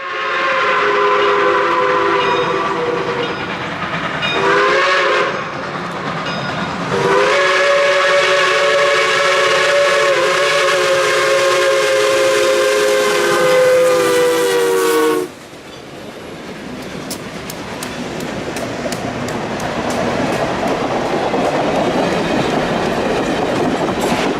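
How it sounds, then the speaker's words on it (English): Reading and Northern 425 steam locomotive's Chicago, Burlington and Quincy three-chime whistle blows in long, loud blasts with a brief break at a grade crossing, then cuts off, leaving train rumble and rattling wheels. "The 425 is sporting a Chicago, Burlington, and Quincy 3-chime whistle this weekend"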